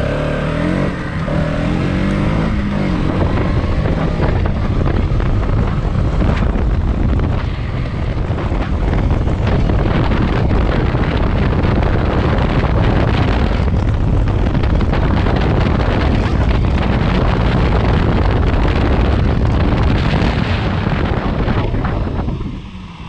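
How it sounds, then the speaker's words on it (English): A KTM Duke 200 motorcycle ridden at speed on the road, engine drone buried under steady loud wind buffeting on the microphone, with no pauses throughout. "So the plan is I will take it up to a significant speed and then we'll test the braking."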